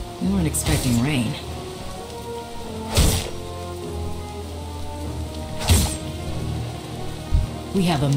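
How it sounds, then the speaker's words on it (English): Rain hisses continuously in a World of Warcraft game world, a soft even wash with a few brief louder bursts, while character dialogue plays over it. "We weren't expecting rain."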